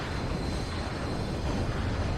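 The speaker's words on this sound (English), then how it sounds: "I've also got a couple of these Mi-2s on the way. Good old recon helicopters." Mi-2 recon helicopters approaching in WARNO, a steady, loud engine and rotor drone that holds without a break, with no talking over it.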